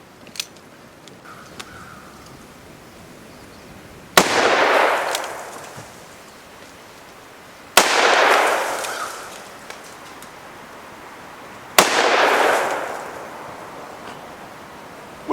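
Three loud gunshots crack out at a rustic log cabin deer hunting camp, evenly spaced a few seconds apart, each leaving a long echoing tail; a few faint clicks come before them and nobody speaks.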